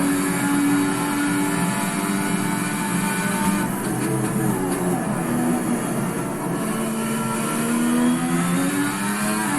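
Ferrari SF70H Formula 1 car in the Assetto Corsa racing game, its engine droning steadily and loudly throughout with rising and falling revs, with no talking.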